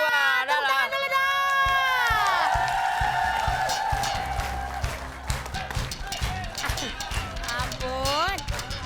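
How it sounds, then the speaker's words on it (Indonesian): A studio audience at a comedy show's prize contest claps and cheers, the clapping growing into scattered bursts beneath loud voices talking and shouting over it. "Tepuk tangan dulu dong."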